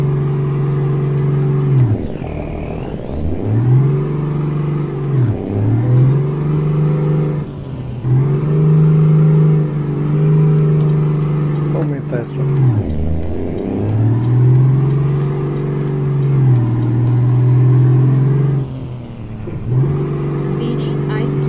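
A truck engine in Euro Truck Simulator 2 drones steadily and loudly, its pitch dipping and climbing through repeated gear changes and acceleration, with a voice speaking over it at times.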